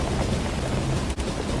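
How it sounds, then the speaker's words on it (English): A storm roars with rain and thunder around an airplane at night, a dense steady wash of noise that briefly dips near the end. "It looks like we're inside a storm."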